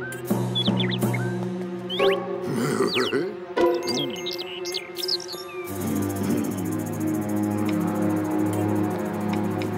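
Small bird chirps and quick tweets flutter over a musical background in the first half of a Garfield Show cartoon, then music carries on alone.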